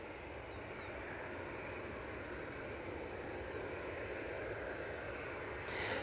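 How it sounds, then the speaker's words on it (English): An SAS Airbus A320neo rumbles overhead with a steady, broad engine roar that swells slightly toward the end. "there's the SAS A320 Neo that's coming over"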